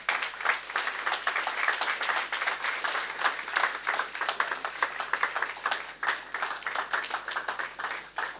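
A sustained round of audience applause following a speaker's talk on his professional journey, dense clapping from many people that continues evenly for several seconds with no speech over it.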